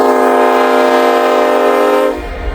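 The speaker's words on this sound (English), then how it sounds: "SD70 Mac Daddy, baby." An SD70-series diesel locomotive passes close by, and its loud chord horn blares steadily for about two seconds before cutting off. Low engine and rail rumble follows.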